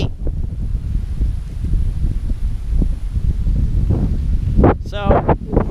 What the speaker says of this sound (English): but it's freaking windy.